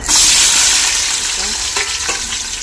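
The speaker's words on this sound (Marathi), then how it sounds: "आता गॅस कमी करून कांदा टाकून घेते" Chopped onion dropped into a generous amount of hot oil in a pan on a lowered gas flame, sizzling loudly and close with a bright hiss that settles slightly, plus a couple of soft stirring clinks.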